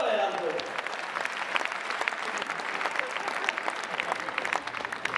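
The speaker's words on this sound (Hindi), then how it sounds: "क्या तालियां कम बजा रहे हो यार?" Audience applause fills a Hindi comedy poetry show, thick and continuous clapping from a large crowd with a slight swell at the start, holding steady throughout.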